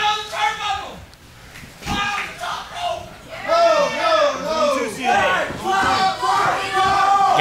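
A live wrestling crowd roars and chants during a match, many voices rising and falling in waves, close and loud, with a sharp slap of impact early on.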